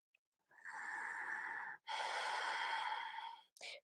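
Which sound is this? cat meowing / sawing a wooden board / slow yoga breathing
slow yoga breathing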